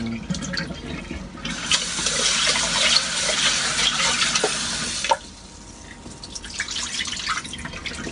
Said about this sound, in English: a couple of cups of rice, rinse it off, and then fill it with water